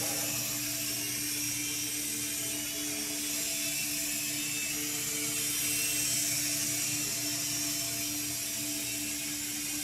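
Syma Speed S5 toy RC helicopter flying indoors, a steady high-pitched rotor and motor whine with a buzzing mechanical drone holding at an even loudness throughout, with no talking.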